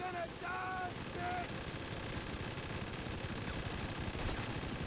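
Assault rifle fire in GTA V, a few bursts of rapid shots under continuous dense game noise and action, moderately loud, with a voice speaking briefly near the start.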